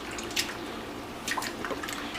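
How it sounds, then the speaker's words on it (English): Raw steak is rinsed under cold running water from a kitchen tap in a quiet, soft stream with a few brief splashes and drips, and no one speaks. "we're gonna put this under a little cold water just to give it a quick rinse"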